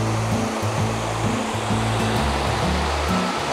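River water in the Great Smoky Mountains near Elkmont, a steady, close, full rushing flow with no pauses, carrying a low rumbling undertone.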